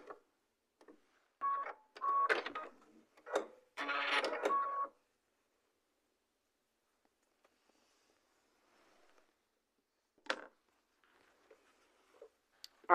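A sewing machine fitted with a 1/4 inch foot stitches quilt block pieces together in a few short bursts of rapid stitching, with quiet pauses between runs and a brief, faint burst near the end.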